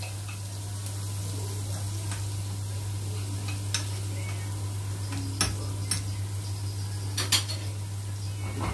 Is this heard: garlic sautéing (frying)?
yes